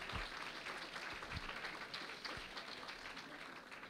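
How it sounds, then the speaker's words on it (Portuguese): Church congregation applauding during a Sunday service, a dense, steady wash of many hands clapping at moderate distance, fairly faint and continuous throughout. "Aplauda Jesus mais uma vez."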